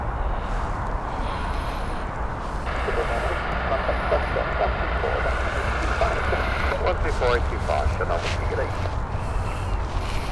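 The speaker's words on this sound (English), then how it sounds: "Right, EasyJet Rome flight here" Broadband aircraft roar of an EasyJet flight from Rome on final approach at Edinburgh Airport, a steady loud drone swelling slightly midway, with outdoor wind and a voice talking over it.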